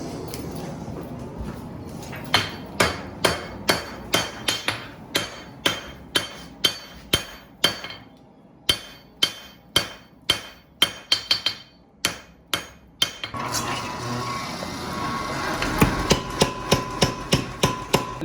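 A hammer forge-welds steel pieces into a knife billet, striking in a steady series of sharp, ringing metallic blows, then a brief pause and a faster run of strikes over a rushing forge roar.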